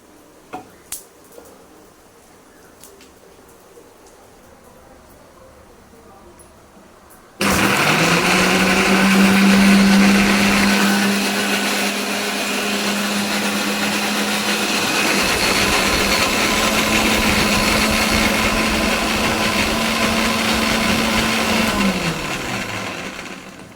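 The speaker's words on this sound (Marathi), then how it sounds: "मिक्सर हे ग्राइंड करून घेऊया" A mixer grinder blends a spice paste for a Bombay duck fish dish. After a quiet stretch its motor kicks in abruptly and whirs loud and steady for about fifteen seconds, then winds down.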